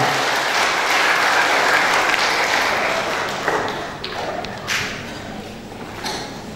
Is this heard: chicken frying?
no